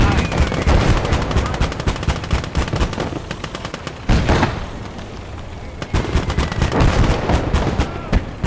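Heavy mortars and gunfire pound in the World War II strategy game Kampfgruppe, with rapid bursts of close, loud impacts hammering in rattling volleys, a brief lull, then another dense barrage, with in-game voices faintly present.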